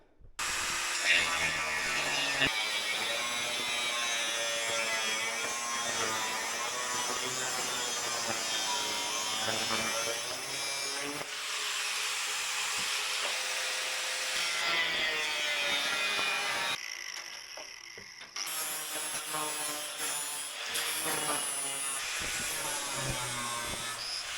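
Steady, harsh whine of a power tool cutting away a marine engine belt guard, running continuously at close range with a brief dip in pitch and loudness near the end.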